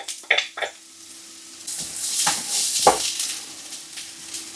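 Garlic hits a pan of frying onions and a loud, close sizzle rises, with a few quick stirring scrapes before and after the hiss swells and holds.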